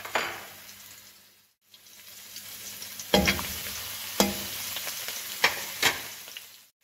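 Chopped garlic and chilli fry in hot oil in a pan for Kung Pao chicken noodles, a close steady sizzle broken by a few sharp spatula clinks and bursts of stirring.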